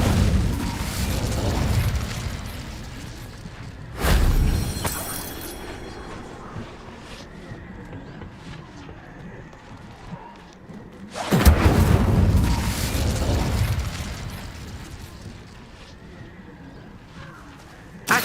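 Two booming fire-spell blasts in Hogwarts Legacy, a wizarding video game, each a loud burst that rolls off into a rumbling tail, separated by a quieter stretch of ambient game sound.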